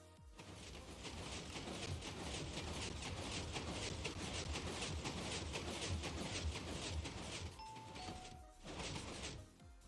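A redstone elevator in Minecraft moves downward with a rapid, steady train of mechanical clicks and clatters, faint and continuous, broken by a short pause near the end and a few brief tones.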